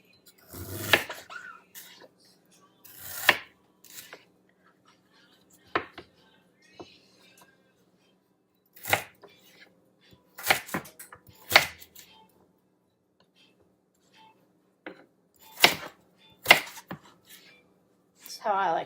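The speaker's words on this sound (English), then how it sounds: "Let's cut up this sweet potato." A knife chops through a sweet potato on a cutting board in a small kitchen, giving sharp, irregular knocks in short clusters separated by quiet pauses, with occasional speech between cuts.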